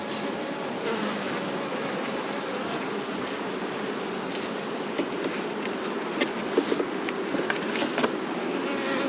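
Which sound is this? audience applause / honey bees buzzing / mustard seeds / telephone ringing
honey bees buzzing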